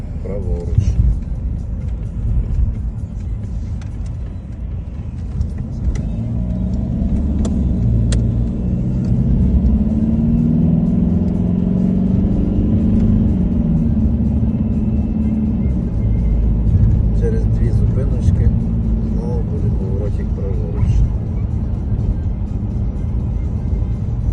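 A car drives along a road near Lutsk, Ukraine, past a turn toward a bus stop, its engine and tire rumble steady and close inside the cabin, while someone talks over it most of the way.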